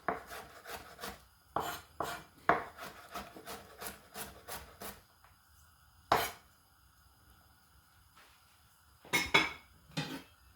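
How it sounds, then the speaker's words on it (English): Garlic cloves smashed and roughly chopped with a knife on a wooden board: quick bursts of sharp chopping knocks, a pause, a single hard whack, then a few more clustered chops, close and otherwise quiet. "Garlic, just going to smash them a bit. Just rough chop them."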